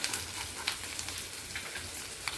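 Onions sizzle in a hot pan with green chilies and curry leaves while a jackfruit seed stir-fry is being made. The hiss is a steady, close crackle, with small pops and occasional stirring scrapes and no talking.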